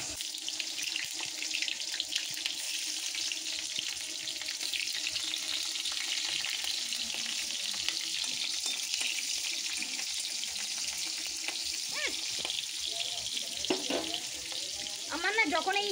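Hot oil in a wok gives off a constant hiss and sizzle, mixed with a running-water sound, recorded close and at a low, even level throughout.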